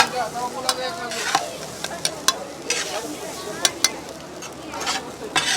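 Rice for biryani is stirred and fried in a large kadhai at a family food business, with a constant sizzle broken by sharp scraping spatula strikes at irregular intervals.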